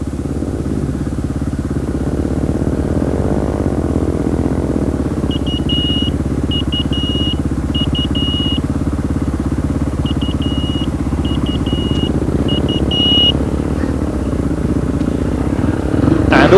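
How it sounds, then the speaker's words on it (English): Dakar Rally trucks of the 2007 race blasting past through soft desert sand, a loud, steady engine roar held close throughout with faint higher whining on top. "That was one of Hans Stacey's man team blasting past in the trucks"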